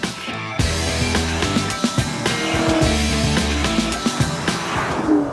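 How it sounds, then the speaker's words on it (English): Engine of a fifth-generation Chevrolet Camaro revving hard under throttle, a loud, steady roar with rising and falling pitch over several seconds, close by and alone. "Simply put your foot down and start enjoying the improved power and throttle response of your Camaro."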